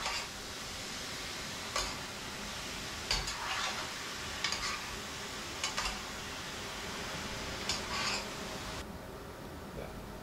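Meat for igado fries in a pan under a steady sizzle, while a spatula scrapes and stirs in sharp, irregular strokes every second or two, close and fairly quiet.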